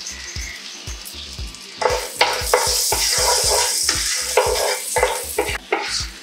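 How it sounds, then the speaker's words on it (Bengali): Whole garam masala and black peppercorns frying in melted butter in a pan, a loud close sizzle broken by quick repeated scraping strokes of a spoon stirring, with no talk. "গরম মশলার সুগন্ধ বের হওয়া পর্যন্ত এটাকে নাড়তে হবে।"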